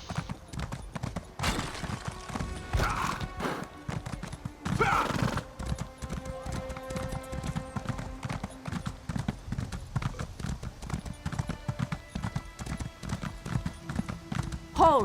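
A horse mount galloping in the video game Elder Scrolls Online, steady rapid hoof clip-clop throughout with a whinny early on, loud and continuous against game sounds.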